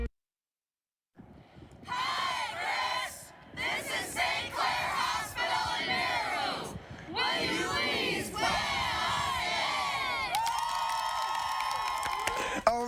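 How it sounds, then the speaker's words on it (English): A crowd cheers and whoops with applause mixed in, loud bursts of voices rising and falling with brief gaps, while a short electronic tone sounds near the end. "They did the whole applause and everything after."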